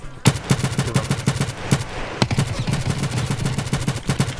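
Rapid bursts of automatic gunfire from a gun in the video game Escape from Tarkov, loud and close, with sharp repeated shots in quick succession and a short pause midway before firing resumes.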